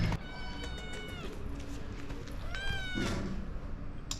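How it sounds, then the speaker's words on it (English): A stray cat in Albania meows twice up close, first a long drawn-out cry and then a shorter one a moment later, over steady outdoor background noise. "But then you meet a cat like this"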